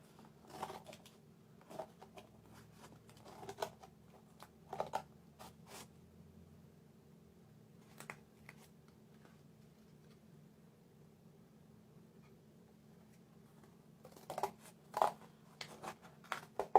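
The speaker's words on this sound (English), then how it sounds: "you want to cut out your letters using scissors or your craft" Quiet, scattered snips and scraping cuts through cardboard with scissors or a craft knife come in short bursts, with long pauses in between over a low background hum.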